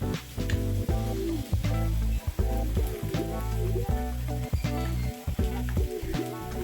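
Potatoes fry in hot oil in a pan for a soyabean curry, a steady close sizzle with stirring scrapes, continuous and loud throughout.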